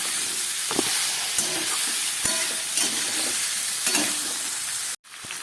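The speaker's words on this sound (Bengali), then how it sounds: "এখন একটু কষিয়ে নিই, তারপরে বাকিটা দিচ্ছি।" Raw jackfruit curry sizzles loudly and steadily in a pan, with spoon scrapes and stirring knocks repeating every second or so, then a brief pause near the end before the frying resumes.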